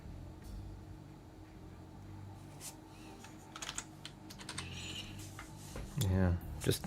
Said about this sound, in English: just typing in.